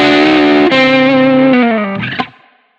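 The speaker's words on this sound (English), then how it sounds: "let's flip this thing over to like a more Marshall, a more driven setup, and let's see how that sounds" Electric guitar with a passive mid-control mod and a P90 pickup runs through a Marshall amp and cab on a driven setup, ringing out a loud distorted chord that shifts twice and then decays with a squeal.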